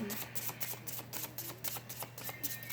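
Rapid riffling of a card deck, a steady flurry of papery flicks and snaps up close, continuing without pause.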